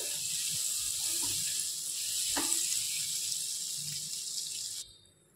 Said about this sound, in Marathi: बटर मध्ये परतून घेऊया ढोबळी मिरची आणि टोमॅटो।